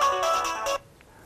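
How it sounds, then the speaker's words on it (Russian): A mobile phone rings with an incoming call, giving a fairly loud electronic ringtone in short melodic pulses that stop abruptly, followed by near silence. "А, это как раз моя внучка звонит."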